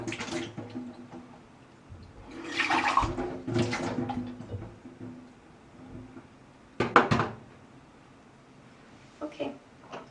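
Water runs from a kitchen tap as a measuring cup is rinsed, coming in bursts of splashing with quieter gaps, and someone speaks between them.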